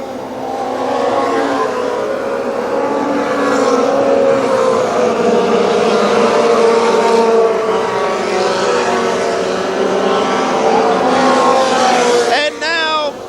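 Pro 4 midget race cars at Kil Kare Speedway, a pack of lead cars running nose to tail, their engines roaring steadily and loud for the whole stretch, with an announcer talking over the noise throughout.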